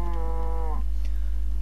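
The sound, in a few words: cow mooing in a video game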